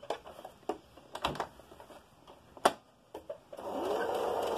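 A sewing machine works on a cloth face covering: scattered sharp clicks and taps of handling and positioning come first, then a short steady run of stitching closes the clip.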